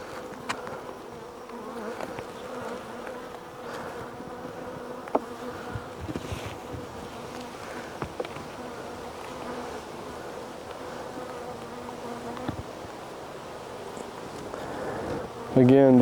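Honey bees buzz steadily around an open hive with partly capped frames, a dense continuous insect drone close by with occasional individual bees passing near, and a brief louder burst at the end.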